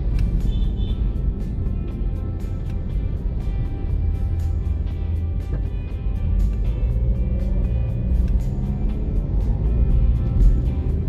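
Steady road traffic on Marcos Highway in Rizal, a continuous low rumble of cars and motorcycles passing close by, loud and unbroken throughout with no talk.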